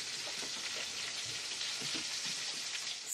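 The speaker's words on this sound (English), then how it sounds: "Sizzling and sputtering and sending forth greasy juices." Steady crackling sizzle of breakfast food frying in a cooker, greasy juices sputtering, with dense popping and spitting that holds at a constant level throughout, close by.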